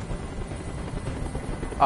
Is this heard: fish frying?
no